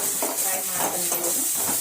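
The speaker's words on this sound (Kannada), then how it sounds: "ಫ್ರೈ ಮಾಡ್ತೇನೆ." Onions frying in a pan with mustard seeds and cumin, giving a steady sizzling hiss with faint stirring scrapes and pan clinks throughout.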